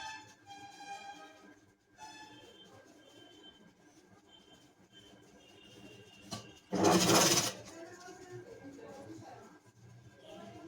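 A sewing machine stitching net fabric with a design on it, heard as one short, loud burst of rapid stitching partway through, set against quiet, faint background sound.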